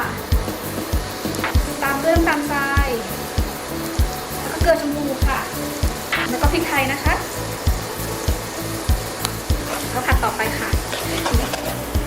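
Sponge gourd stir-fried with duck egg and fresh shrimp in a pan, with a continuous sizzle and rhythmic scraping of a spatula, while someone talks over the cooking.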